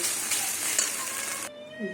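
Egg bhujia fries in mustard oil in a wok, giving a loud, steady, close sizzle that runs for about a second and a half, then cuts off abruptly and leaves only a faint quiet tail.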